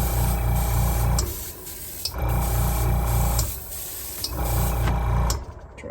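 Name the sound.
airbrush spraying reefer white paint on scale model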